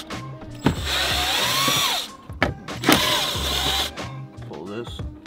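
Power drill running on screws inside a Mazdaspeed3, two long whirring runs with pitch sweeps separated by short pauses and clicks, close and loud, with a voice talking at moments.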